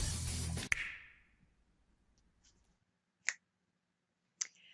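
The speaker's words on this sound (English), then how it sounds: "loud finger snaps stopped them and made them turn around" Two sharp finger snaps in the video game Seduce Me, spaced about a second apart after a burst of louder noise fades, each crisp and isolated against near silence.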